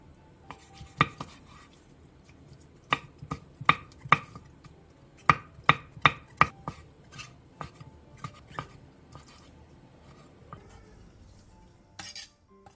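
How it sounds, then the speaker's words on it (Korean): A knife chops aged kimchi and squid on a cutting board in a home kitchen, producing crisp, sharp knocks in quick uneven runs of several strokes with brief pauses, close and clear, with no talking. "묵은지 4분의 1 포기를 1cm 정도 길이로 썰어주세요"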